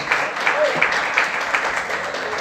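Church congregation applauding during an evening service, a dense wash of clapping with regular bursts, steady and moderately loud, with a voice faintly audible over it.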